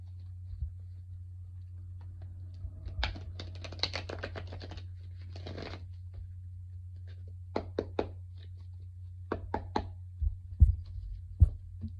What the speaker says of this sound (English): Already shuffled these cards, but I'm doing it again just so you know it got done.